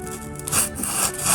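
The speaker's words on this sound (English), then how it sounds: "I can proceed to cut it with this. It's made by Tamiya. I know it's an overpriced saw" A Tamiya hobby saw cuts through material for a gunpla diorama base, giving a short burst of steady rasping strokes, close and fairly loud, with no talking.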